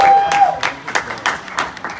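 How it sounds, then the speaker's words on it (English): A convention crowd at the New York Comic Con 2019 Star Wars Hasbro panel bursts into short, loud clapping and cheering, with a brief whistle at the start and uneven bursts of hand claps. "let's hear it for the Vintage Collection. I love applause."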